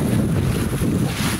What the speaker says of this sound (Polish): bo też jest wiatr, więc tutaj będzie mniejszy wiatr